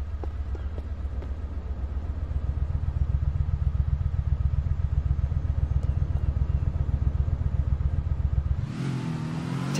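A car engine drives along in GTA IV, a steady low rhythmic rumble with fast regular pulses held for several seconds, then a brief higher burst near the end.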